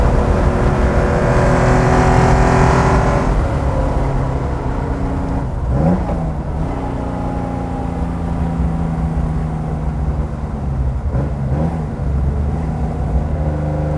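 Flat-six engine of a 1970 Porsche 914-6 GT revving hard toward 5,000 RPM on a road drive, a loud continuous drone with rising pitch and brief gearshift dips, heard close from inside the car with no talk.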